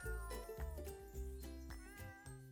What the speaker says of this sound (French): Ce chat est de retour, yes.